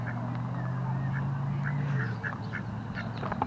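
Ducks quack at an urban pond while someone fishes, a run of short nasal quacks close by over a low steady hum, with faint voices in the background.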